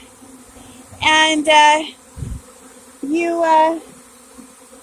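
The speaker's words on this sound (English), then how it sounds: "It's the first swarm of the season." A honey bee swarm buzzes around a modified Warre bait hive holding some leftover honey in May: two loud, close bursts of droning buzz, with a brief spoken phrase between them.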